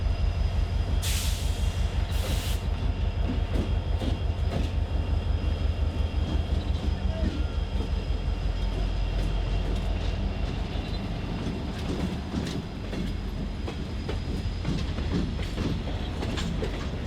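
A CN iron ore freight train on former Soo Line rails near Escanaba passes close by behind an EMD SD60 locomotive, with a steady loud rumble and rhythmic clickety-clack of wagons over the rail joints, a brief horn-like tone near the start.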